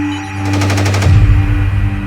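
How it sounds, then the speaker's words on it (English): Rapid bursts of automatic gunfire from the 2008 Mumbai terror attacks rattle in a quick series, then give way to a loud, deep rumbling blast that lingers to the end. "The gunmen at first were firing an incredible number of rounds,"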